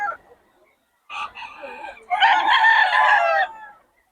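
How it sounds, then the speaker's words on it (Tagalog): Gamecocks at a rooster breeder's place let out a short crow and clucks, then a longer, loud crow up close, with quiet gaps between the calls. "Quality mga manok ni Boss Batang ngayon."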